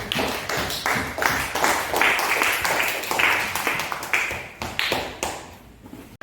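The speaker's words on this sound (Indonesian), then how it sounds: "tepuk tangan dulu kepada teman-teman kita." A classroom group claps hands together in a burst of irregular, fairly close claps, with some voices and chatter mixed in underneath.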